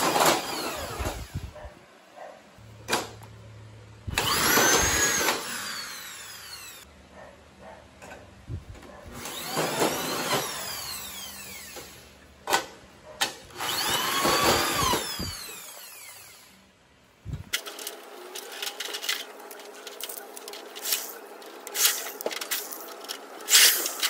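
A power drill fitted with a tek screw adapter drives tek screws into metal furring on a DIY metal-stud gate. Its whining motor comes in four loud bursts separated by short pauses, then a different, steadier noise takes over near the end.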